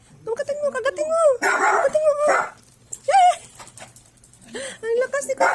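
Playful dogs bark, yip and whimper in short excited bursts at close range during a tug-and-bite game, while a person talks encouragingly over and between the barks.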